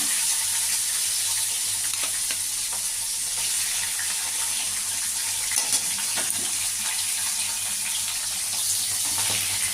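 Tengra fish frying in hot oil with light stirring, a continuous loud, dense sizzle across the whole stretch with faint occasional clinks, close up and without speech.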